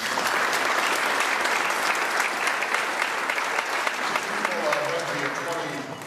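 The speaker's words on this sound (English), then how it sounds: "a round of applause for a great group of people" A crowd at a chamber of commerce event claps steadily and loudly for several seconds before the applause starts to fade near the end.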